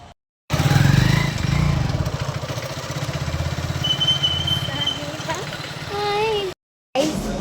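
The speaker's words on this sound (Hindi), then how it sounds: "देखो पीछे बाइक निकाल रहा है।" A motorcycle engine passes close behind on a busy road, a loud continuous drone rising and fading, with people talking over it and other traffic noise around.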